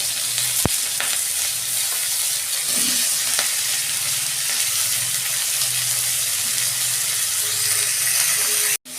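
Onions and whole cumin seeds frying in cooking oil in a pan for a chicken curry, a steady close sizzle running throughout with a couple of faint clinks, no talking.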